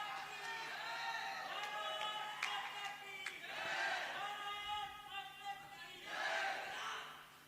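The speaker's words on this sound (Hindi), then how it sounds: "आपकी तालियों को, आपके शोर शराबा को विशेष प्रणाम करता हूं" Applause and cheering from a large audience at a Hindi kavi sammelan after a patriotic poem recitation, with sustained clapping and shouting that swells in waves.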